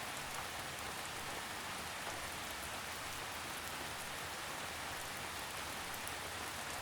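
Steady rainfall in a forest, a dense, even hiss of drops pattering on leaves and ground, continuous and close with no pauses or voices.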